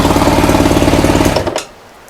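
A small engine driving a spinning wheel is throttled up, a loud rapid chugging rattle that runs steadily then cuts off abruptly, leaving near silence.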